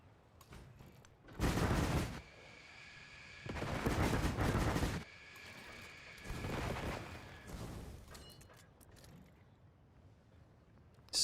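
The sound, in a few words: artillery firing in the video game Civilization 7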